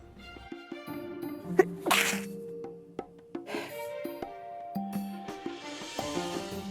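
A single sharp sneeze bursts out over light background music, sudden and close.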